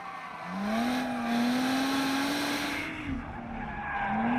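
A Lotus Exige S sports car accelerates on a track, its engine note climbing loud and steady over several seconds, dipping briefly before rising again.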